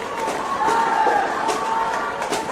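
A large arena crowd at an India vs Japan gold medal final murmurs and roars in a steady, distant wash of noise, with a few faint cheers rising above the din.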